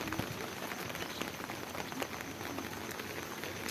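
Heavy rain falls on a rooftop garden with sugarcane and dragon fruit plants, a dense, steady hiss of drops with scattered individual splashes, fairly faint overall and without voices.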